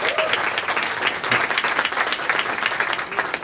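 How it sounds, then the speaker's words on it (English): A town hall audience applauds, dense steady clapping from many hands at moderate distance, filling the whole stretch without letup. "Give her a round of applause."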